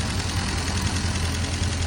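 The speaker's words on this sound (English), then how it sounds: "I've now officially had it idling for longer than I would probably be driving it down the road for in one go" A 73-year-old Fordson E83W van engine idles close by, with a steady, even low rumble that holds unbroken and never changes pace.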